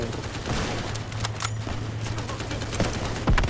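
Gunfire in the video game Shanghai Nanking: rapid bursts of shots with a few sharper cracks over a constant low hum, loud and close, with no talking.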